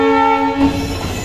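A train sound effect in which a sustained, loud horn blares steadily, then cuts off into rumbling rail noise from the moving train.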